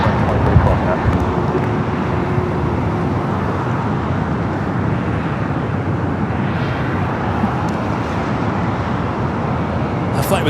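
A Boeing 737 MAX 8 departs LAX on a flight to Phoenix as a loud, broad jet roar that rumbles steadily throughout, heard from nearby outdoors with some wind noise.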